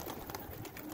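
A pigeon on a Quetta rooftop gives a brief, faint coo against soft background noise, with no voices.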